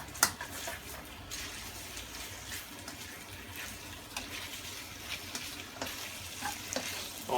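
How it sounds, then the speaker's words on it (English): Pork coated in cornstarch fries and is stirred in a wok, giving a steady loud sizzle with scraping stirs and small sharp pops throughout, with no talking. "I want to cook the meat up a bit, not fully."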